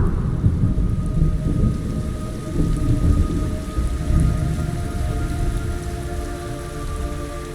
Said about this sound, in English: It's raining blood.